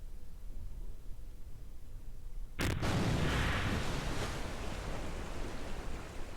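In the game Kerbal Space Program, a science module crashes and explodes: a sudden loud blast cuts through quiet background noise, followed by a sustained rumbling roar that slowly fades.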